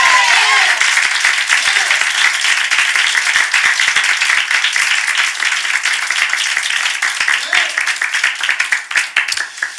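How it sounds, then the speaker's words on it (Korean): Congregation clapping steadily through a Sunday morning church worship service, a dense, even patter of many hands lasting the whole stretch, loud and close with a few faint voices beneath. "그렇게 하실 분들만 우리 하나님께 박수로 영광 돌리겠습니다."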